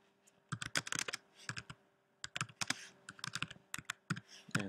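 Computer keyboard typing in two quick bursts of close, crisp key clicks, separated by a short pause, in a quiet room with no voices.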